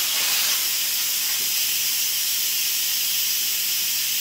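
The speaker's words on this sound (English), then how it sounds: "And so it's releasing the steam." Steam hisses steadily and loudly from the vent of an Instant Pot pressure cooker during a quick release after cooking hard boiled eggs, a continuous broadband rush with no talk.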